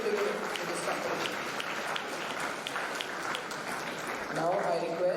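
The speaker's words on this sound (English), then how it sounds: "Please give a big round of applause to all these teams" Audience applause for competing teams at a youth entrepreneurship competition, a steady, moderately loud wash of clapping throughout, with a voice speaking over it.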